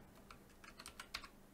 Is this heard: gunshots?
no